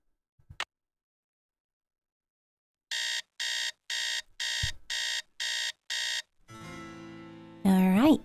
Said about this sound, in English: So let's set our alarm for 3 a.m.